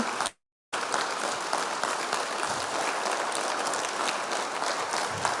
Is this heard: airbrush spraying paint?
no